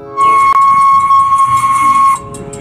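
A Thomas toy train sounds a loud, steady steam whistle, one long sustained tone of about two seconds with a faint hiss beneath, ending sharply and followed by a soft trailing noise.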